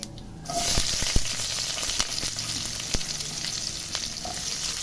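Onion sizzles steadily in a hot pan with mustard seeds and a dried red chilli after a brief quiet start, with occasional sharp clicks from a spoon stirring.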